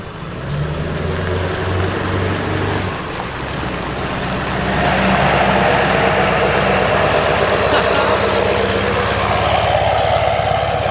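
A Ford 7.3 diesel truck engine idles with a deep throb, then revs up and roars loudly as it cruises past close by, the heavy rumble sustained to the end.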